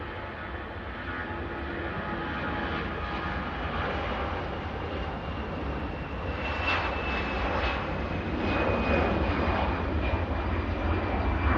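EasyJet airliner taking off from Manchester Airport, bound for Lisbon: a steady, loud jet engine roar that builds slightly toward the end, with no talk over it.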